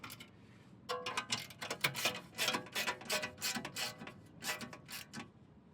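Bolts on a BMW Z4 Coupe are turned by hand, giving a run of small close clicking and ratcheting metal ticks in an uneven rhythm, quiet and without talk.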